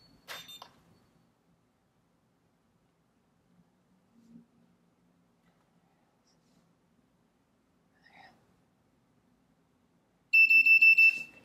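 A DIY Raspberry Pi Pico game-night timer's buzzer gives a loud, steady electronic beep near the end, after several faint clicks and taps in an otherwise quiet room.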